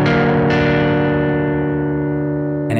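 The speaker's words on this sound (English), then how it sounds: "Augmented chord sounds like this." An augmented chord strummed on guitar through effects and distortion for a blues chord lesson, ringing out as one loud sustained chord that slowly decays over a few seconds, alone.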